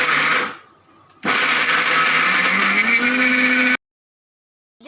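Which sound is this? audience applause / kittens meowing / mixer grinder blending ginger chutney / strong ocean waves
mixer grinder blending ginger chutney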